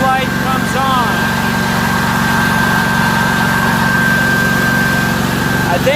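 A Hobart generator engine runs steadily at throttled-up speed with a constant loud mechanical drone and a whining tone throughout, close by.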